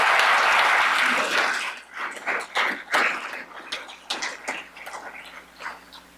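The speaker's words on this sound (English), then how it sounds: "If we could please give a round of applause and recognize our Guard." A crowd claps loudly at a National Guard change of command ceremony, dense applause at first that thins into scattered, uneven claps before fading.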